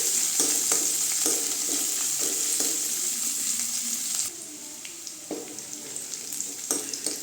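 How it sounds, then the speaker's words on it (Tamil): Onions sautéing in an oiled pan for a potato and cauliflower curry, a close, continuous hiss of frying broken by regular scrapes and taps of a spoon stirring; the sizzle quietens slightly partway through. "வெங்காயம், வெங்காயம் நல்லா வதங்கிட்டுங்க."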